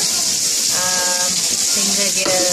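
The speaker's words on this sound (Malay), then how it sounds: "Kemudian rempah kari ikan. Dan kita akan tumis sehingga dia" Fish curry spice paste stir-frying in oil with onions, lemongrass and galangal gives a steady, loud sizzling hiss throughout, with a voice heard briefly over it.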